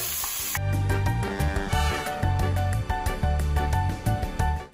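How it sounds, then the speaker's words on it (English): Onions sizzling in a stew pot over beef fond, a steady close frying hiss with occasional stirring scrapes, no talking. "We're gonna start sauteing our onion."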